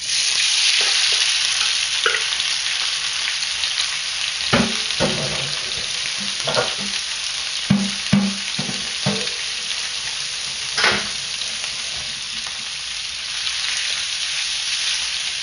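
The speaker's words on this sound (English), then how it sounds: "Throw it in the pan and saute it." Frozen shrimp, seasoned, sizzle steadily in a hot pan for shrimp Alfredo, a loud continuous frying hiss broken by scattered scraping stir clinks and thumps, with no talking.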